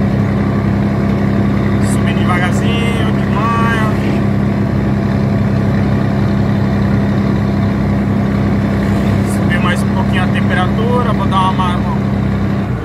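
An old truck with no air conditioning climbs a mountain road near Sorocaba while overheating, its engine a steady, loud drone with a strong low hum throughout, with occasional faint voices in the background.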